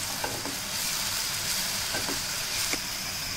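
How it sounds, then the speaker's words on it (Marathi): Tomatoes sautéing in hot oil in a pan for matar paneer masala, a steady close sizzle and fry with a few faint stirring clicks, no talking. "टोमॅटो आपला चांगला परतून झालेला आहे"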